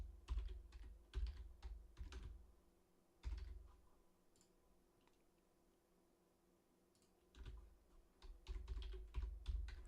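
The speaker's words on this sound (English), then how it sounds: "Maybe I'll find something just typing this in." Rapid clacking on a computer keyboard during a live stream, in quick bursts of keystrokes with a quiet pause midway before the typing picks up again, close and crisp.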